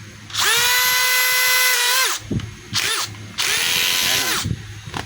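A DeWalt DCD805 18V cordless drill runs in screw mode, its motor whining loud and close in a long burst. Short spurts and a final longer run follow, with no voices.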